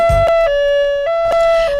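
An ambulance siren wails loud and close in a steady two-tone pattern, its pitch stepping up and down several times with no talking.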